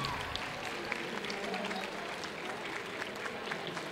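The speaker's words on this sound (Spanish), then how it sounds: "Fuerte aplauso, por favor." An audience claps steadily at the final of a 2023 challenge competition, a dense wash of applause at moderate volume with a faint voice mixed in.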